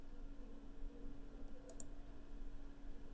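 A computer mouse clicks a couple of times in quick succession, setting a bullet point colour in Google Sheets. The clicks are brief and close against a steady low hum.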